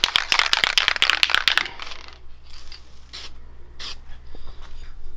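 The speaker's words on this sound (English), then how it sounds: "It'd probably be handy to spray this a little bit with some dry graphite lube" Dry graphite lube sprayed onto a mini bike: a burst of rattly, hissing spray up close in the first couple of seconds, then quieter handling with a few short hissy puffs, no talking.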